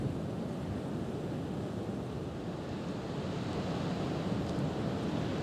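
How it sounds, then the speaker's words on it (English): Strong February wind blows across an open meadow, a constant, loud roar buffeting the microphone with no pauses or other sounds. "It's so windy"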